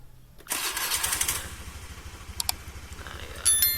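A Honda Beat scooter with a shorted headlight cranks and fires up about half a second in, then settles into a steady, close, rhythmic idle, with brief clicks near the end.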